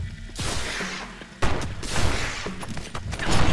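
A Gatling gun in the video game Stick It to The Stickman fires in loud, dense, rapid bursts that repeat in waves.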